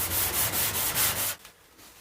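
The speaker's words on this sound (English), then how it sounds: "So I'm going to sand up this panel and we'll have a look at it." Hand sanding of a metal truck bed panel being repaired for primer and paint, with rhythmic back-and-forth scrubbing strokes, close and fairly loud, stopping abruptly before a quiet tail.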